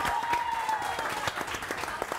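Studio audience on a morning TV show breaks into applause for a couple, a dense, steady round of clapping with sharp individual claps standing out near the end.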